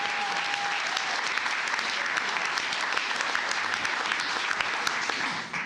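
An audience at a county commissioners court meeting claps steadily in honor of a 30-year employee, the moderate applause continuing evenly before tapering at the end.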